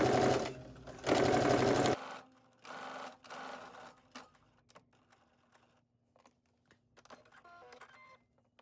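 A sewing machine tacks down the front edges of sweatpant pockets in two loud, steady runs at the start, followed by quiet handling sounds and faint clicks, with no talking.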